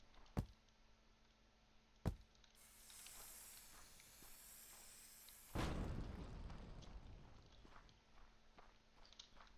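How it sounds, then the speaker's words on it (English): A bomb explodes in Colony Survival, a sudden broad blast that tails off into a rough, fading rumble, preceded by two sharp clicks and a faint hiss, all fairly quiet. "So that destroyed one of the bombs."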